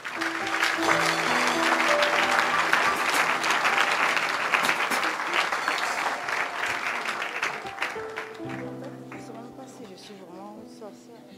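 Worship service congregation applauding, loud sustained clapping that thins out toward the end while a voice and music continue underneath.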